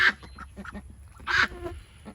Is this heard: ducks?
yes